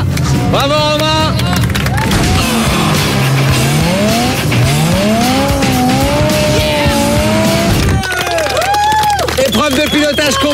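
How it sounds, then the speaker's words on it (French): A 507 hp BMW M6 on a track revs and accelerates with rising engine tones and loud, repeated tire squeals, close and intense, with someone talking over it. "Épreuve de pilotage complète avec une voiture de 507 chevaux, une voiture de dingue, hein, la M6."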